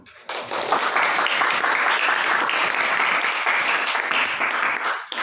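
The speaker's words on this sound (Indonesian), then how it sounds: "kita beri aplaus" Sustained applause from a classroom audience after a group presentation, dense steady clapping starting abruptly and holding loud for about five seconds before tapering slightly at the end.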